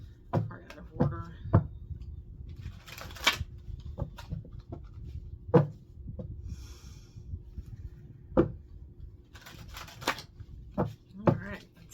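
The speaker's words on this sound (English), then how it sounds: "Shuffle one more time." Tarot card shuffling, with bursts of riffling and soft taps repeating irregularly, close by over a low rumble of background noise.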